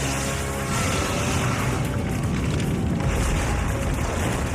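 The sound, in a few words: explosion in animated Godzilla series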